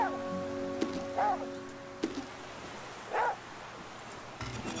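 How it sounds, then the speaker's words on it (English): A dog barks in the video game The Flame in the Flood, two or three separate short barks spaced about two seconds apart, moderately loud over a quiet, faintly rainy background, with no talk. "With all that barking you're doing, man, I really hope you're just keeping out for wolves and stuff."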